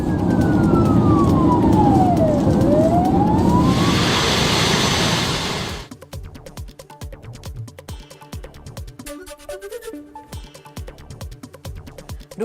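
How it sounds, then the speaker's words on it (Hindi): An air raid alert siren in Kharkiv rises and falls in one long loud wail over a dense drone, then cuts off abruptly as dramatic music takes over. "थोड़ी देर में बज रहा है सायरन"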